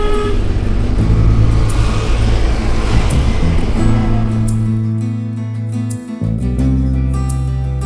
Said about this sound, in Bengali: দুদিকে জঙ্গলের মাঝখান দিয়ে আমাদের গাড়ি কিন্তু আস্তে আস্তে ওপরের দিকে উঠছে।